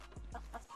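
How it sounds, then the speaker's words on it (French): Chickens clucking in the video game Red Dead Redemption 2: a few quick, faint clucks close together, short and quiet with no talk. "Oh, regarde-moi les poules, comment elles sont énormes."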